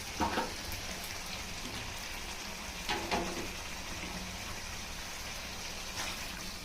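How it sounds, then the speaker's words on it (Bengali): Water poured into a pan of frying chicken curry, giving a steady, moderately quiet sizzle and hiss with a few brief louder gushes and spatters, no talking. "এবার আমি জল ঢেলে দেবো।"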